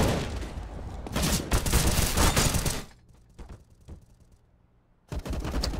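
Bursts of automatic gunfire from Counter-Strike: Global Offensive, loud and close, with two long sustained volleys, a quieter gap of scattered single shots, then another heavy burst at the end.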